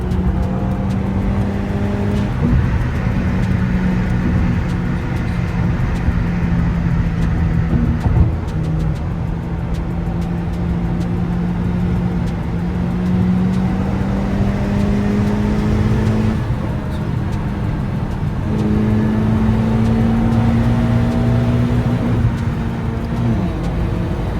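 A Honda Accord with a modified exhaust and resonator, heard from inside while driving, a loud, steady engine drone with rising pitch sweeps as it accelerates through the gears, with no talking.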